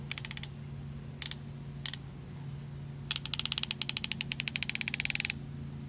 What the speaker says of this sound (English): This is the Hazet 916 HP.